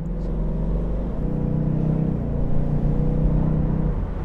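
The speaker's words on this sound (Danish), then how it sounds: "bare ved at lytte til de 8 cylinder, der banker op og ned ude i motoren" A V8 car engine idles in a steady, deep rumble with an even throbbing pulse, close and constant for the whole stretch, with no voices.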